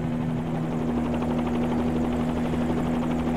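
Helicopter rotor and turbine drone in Microsoft Flight Simulator, a steady, loud, continuous whirring buzz with a strong low hum, unbroken throughout.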